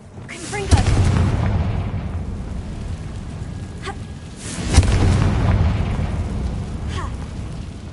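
Fire spell blasts in the Hogwarts Legacy video game: two loud booming explosions a few seconds apart, each with a sharp onset and rumbling tail, amid ongoing game sound.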